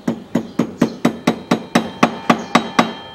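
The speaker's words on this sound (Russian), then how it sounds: "Посмотрим, что у нас здесь закернить." A hammer strikes a center punch to stake the front hub nut of a CFMOTO CF500A ATV, making about a dozen loud, close metallic taps in a quick, even rhythm, with no voices.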